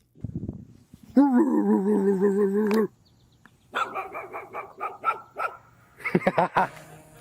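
A dog barks, yowls and yips in several excited bursts, close by, with a drawn-out howling bark followed by rapid clusters of sharper barks.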